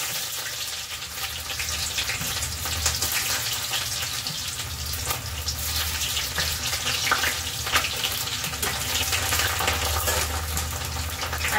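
Onion and mustard seeds fry steadily in hot oil for a carrot stir-fry, a dense, continuous sizzle with no talk.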